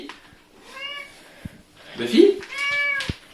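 A cat meows twice up close, one meow early and a longer one near the end, with a brief rustle and a voice in between.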